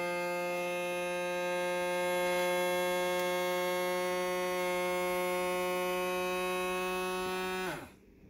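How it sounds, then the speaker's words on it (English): A countertop vacuum sealer draws the air out of a food bag, its motor giving a loud, steady, buzzing hum for about eight seconds before it winds down and cuts off. "So I'm going to hit vacuum seal."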